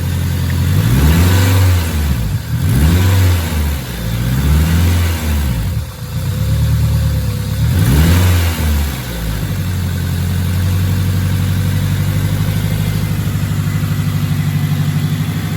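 A turbocharged car engine revs up repeatedly in close, loud, rising-and-falling sweeps, about five rhythmic revs, then settles into a steady idle with a faint whistle; no talking.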